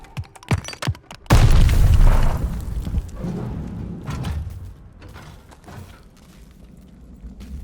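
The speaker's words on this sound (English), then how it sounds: "Grenade! Get down!" A grenade explodes in Call of Duty: Vanguard with a sudden loud, heavy boom after a few sharp clicks, followed by a long rumbling, crackling decay that lingers under faint battle noise.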